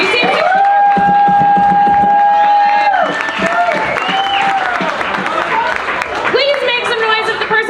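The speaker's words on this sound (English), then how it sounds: "let's give a round of applause to all the comics you've seen tonight" A comedy club crowd applauds and cheers the comedians at a one-liner competition in Minnesota, with sustained loud clapping and whoops filling the room while a host speaks over the noise.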